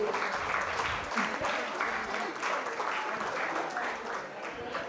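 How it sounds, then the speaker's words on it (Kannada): Audience applause at a Kannada Tantramsha 10th anniversary closing ceremony as a guest is honoured, a sustained crowd of hands clapping steadily for about five seconds, moderately loud with no speech over it. "ನಿಮ್ಮ ಚಪ್ಪಾಳೆ ಸದ್ದು ಜೋರಾಗಬೇಕು"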